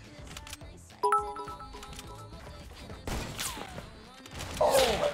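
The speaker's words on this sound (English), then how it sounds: "I'm shooting at a dude up there" Gunfire bursts in a chaotic multiplayer shooter, with shots crackling in quick clusters over busy game noise and music, growing louder toward the end.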